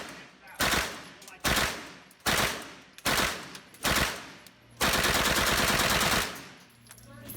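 World War II guns fire at a Las Vegas shooting range: five loud, sharp single shots at roughly even intervals, each with a ringing decay, then a sustained rapid automatic burst of about a second and a half.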